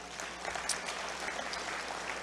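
Audience applause at an Islamic Shura Council banquet, a soft, distant wash of many hands clapping that holds steady across the whole stretch without speech.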